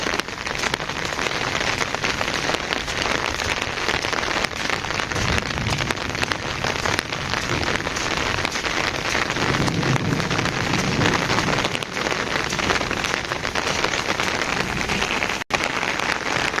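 Steady rain pattering on a hard surface, a continuous dense hiss with no voices.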